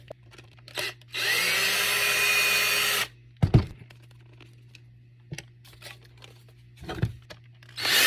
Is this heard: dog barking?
no